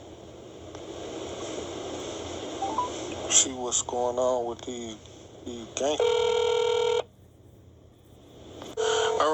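Telephone tones while calling back: a series of clipped beeps and dial tones, followed by a long steady ringback tone and another tone at the end, with a voice speaking briefly in between.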